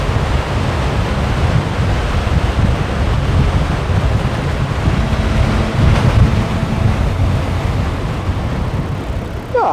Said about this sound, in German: Der Wind ist ja ein bisschen abgeflaut. Wir haben jetzt nur noch 4 Windstärken.